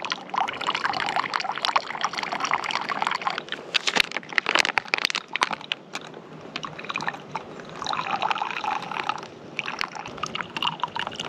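Water squeezed by hand through a Membrane Solutions squeeze filter trickles and splashes into a bottle, a steady close-up dribble that swells and fades with each squeeze, with no talking.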